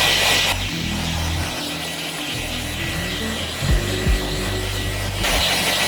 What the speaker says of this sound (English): we're kind of just blow drying the hair to all the direction.